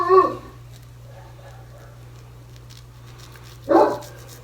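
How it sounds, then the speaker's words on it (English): A big dog gives two short, deep barks several seconds apart, heard at a distance over a steady low hum indoors. "that's a big dog"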